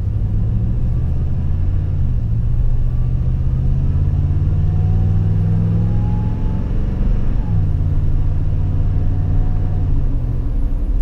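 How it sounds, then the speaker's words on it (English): A supercharged car cruising gently gives off a steady, loud cabin rumble of engine and road noise, with a faint high whine rising and falling slightly above it throughout. "here's what the Supercharger sounds like when you're not really getting on it and you're just driving normal"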